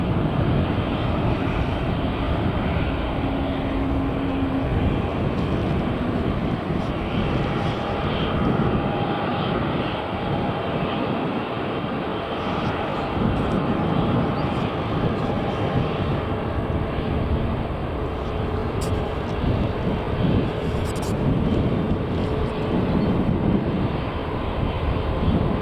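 An Airbus A350 airliner at Manchester Airport produces a loud, steady roar of jet engines that fills the whole span, with a broad rushing noise and no speech over it.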